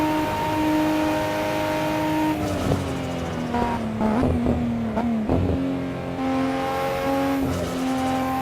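Racing game engine audio from Assetto Corsa: a car engine drones steadily, pitch rising and dropping with gear changes and shifts, with brief tire-squeal bursts midway, loud and continuous throughout with no talking.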